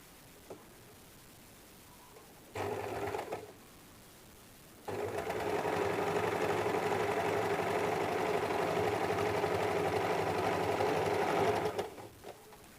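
Sewing machine stitching a dart on a 34-inch belt blouse: a short burst of running, a pause, then a long steady whir of continuous stitching that slows and stops at the end.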